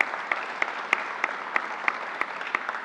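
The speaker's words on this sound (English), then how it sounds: "Let's give him a round of applause." Applause at a COVID vaccination briefing in New York, a steady patter of many hands clapping from a seated audience, with a few sharper individual claps standing out at regular intervals.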